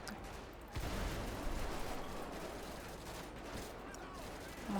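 Sustained gunfire from a bike-gang shootout in GTA 5, a dense fusillade of shots blending into a continuous roar, with a sharp loud burst near the start.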